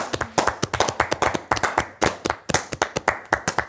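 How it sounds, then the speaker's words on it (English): An audience claps steadily in a quick, dense patter of hand claps, loud and close, with no talking over it. "Could I please have a compassionate round of applause from the audience?"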